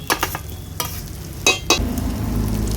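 Spice masala with chopped green chilli, cumin and coriander powder sizzles in hot oil in a pan for a rajma masala, with several sharp scraping stirs at the start followed by steady close frying.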